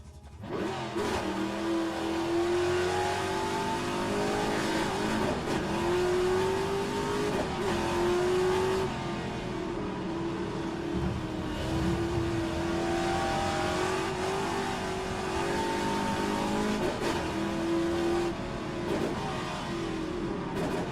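A classic Trans-Am race car laps the Adelaide circuit, its V8 engine roaring loud and close from start to finish, climbing and falling in pitch through repeated upshifts and downshifts as it brakes and accelerates.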